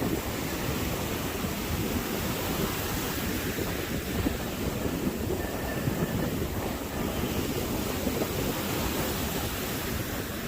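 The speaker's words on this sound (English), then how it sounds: "Look, these waves are like building right now. We're getting waves." Small ocean waves break at a bodyboarding beach, a steady, close wash of surf and hiss with wind noise mixed in, no voices.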